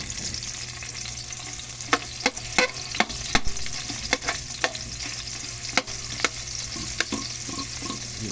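Onions sizzle steadily in a hot pan for adobong sitaw, with a continuous close frying hiss broken by repeated sharp scraping knocks of a spatula stirring against the pan.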